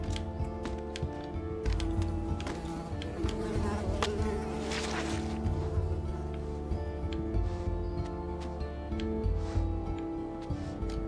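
Buzzing mosquitoes in a moor in the video game Unravel hum in a continuous, layered drone with faint ticking sounds scattered through it, and no voices are present.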